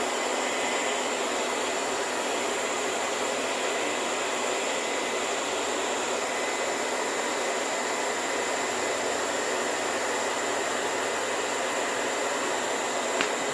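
A hot air blower set to warm hums steadily and continuously at close range, aimed at a dragging cassette tape to heat it gently, with no talking over the broadband rushing noise.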